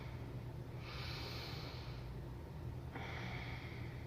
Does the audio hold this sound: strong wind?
no